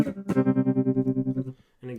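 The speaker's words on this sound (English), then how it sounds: "So that's the tremolo effect." Guitar note held through a tremolo effect with its level turned all the way up, pulsing in a steady rapid throb of volume for over a second, then a short silence before another chord begins.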